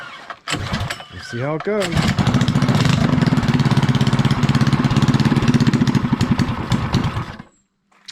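A 212cc small engine on a mini chopper build is pull-started with choke and throttle, coughing a few times before catching and running in a fast, loud, steady putter for several seconds, then cutting off; a voice speaks briefly near the start.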